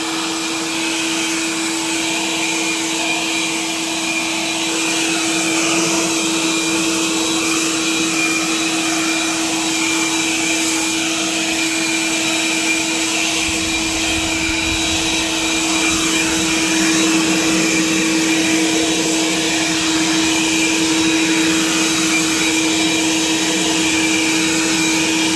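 A Bauer cordless leaf blower runs on turbo, producing a loud, steady, continuous whirring roar with a constant whine that holds unchanged throughout.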